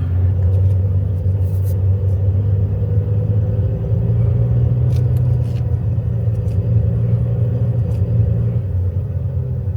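A low-powered car labors uphill in second gear, its engine droning in a steady, loud rumble from inside the cabin, with no change in pace.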